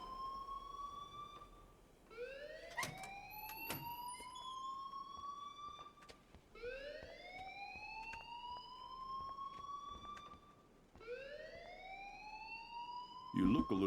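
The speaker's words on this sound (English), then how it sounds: "please turn off that alarm" Alarm ringing in repeated rising electronic sweeps, each a few seconds long with a brief gap between, steady and fairly loud over a low background hum, ending with a short burst of noise.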